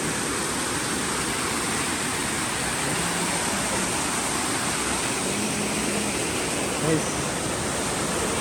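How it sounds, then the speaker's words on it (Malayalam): A constant, close rushing roar of a waterfall in Malappuram, Kerala, fills the whole stretch, with a faint voice barely surfacing underneath. "ഇതാണ് ശരിക്ക് വാട്ടർ വാട്ടർഫാൾസ് കേട്ടോ"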